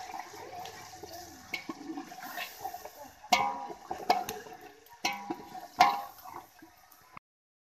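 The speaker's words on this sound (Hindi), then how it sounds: "अब इसमें हम डालेंगे पानी। ये 1 गिलास डाला है" A glass of water is poured into a pot of potato pulao in a home kitchen, a splashing, gurgling pour broken by sharp clanks of utensils against the pot, close and moderately loud, with no voice over it.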